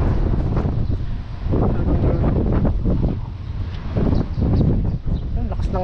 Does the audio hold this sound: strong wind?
yes